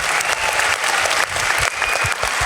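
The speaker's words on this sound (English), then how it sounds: "A thunderous round of applause for Dan Mame." Steady, sustained applause from a Comic-Con Wales 2022 panel audience, dense clapping filling the whole stretch at a fairly loud level with no talking over it.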